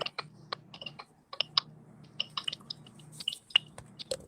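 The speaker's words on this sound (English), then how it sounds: "Sounds like somebody's typing." Rapid, irregular clicks of fingers typing on a keyboard, close and clear, with brief pauses between bursts and no talking.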